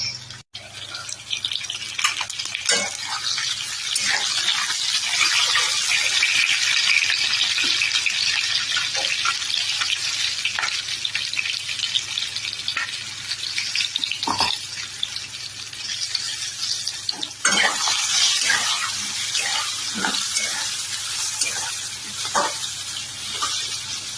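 Whole hilsa fish frying in a pan, a steady broad sizzle running continuously and close, with occasional soft clicks and spatters rising above it.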